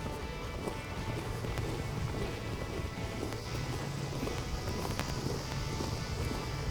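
A horse lopes in a small circle, its hoofbeats thudding in a soft rhythmic patter under steady outdoor noise.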